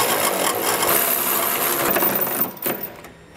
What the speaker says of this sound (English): you can come back with a 3/4 or 19 millimeter socket and snug everything down